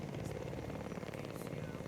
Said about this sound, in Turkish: Helikopter çoktan bekliyor.